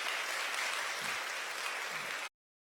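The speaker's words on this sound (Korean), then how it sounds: "여러분들 환영의 박수 부탁드립니다" A Sunday church congregation gives a welcoming round of applause, a thick, even patter of many hands lasting about two seconds before cutting off abruptly into silence.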